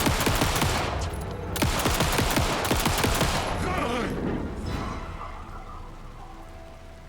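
Rapid bursts of gunfire in the video game Alan Wake 2, loud volleys of shots crowding the first few seconds and then thinning into scattered reports that trail off, with a rain-like hiss underneath.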